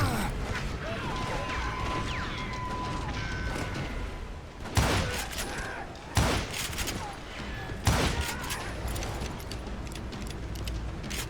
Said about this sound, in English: now that the shooting had started, there was no backing down